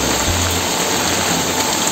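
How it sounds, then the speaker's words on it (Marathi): Heavy, steady rushing of water fills the clip with dense broadband noise as rainwater streams close by down steps, with no voices. "आमच्या इथून असं पाणी वाहत आहे बघा पूर्ण पायऱ्यांवरनं"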